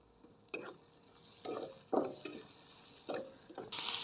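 Garlic, green chili and onion frying in oil on a wood-fired stove, a steady low sizzle broken by several soft stirring scrapes spaced through the clip.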